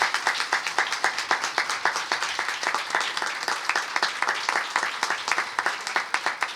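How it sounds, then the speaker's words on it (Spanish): An audience applauds a choir and ensemble at a congress event, a steady run of many hands clapping with dense, rhythmic claps throughout, moderately loud and without talk. "Un gran aplauso para ellos"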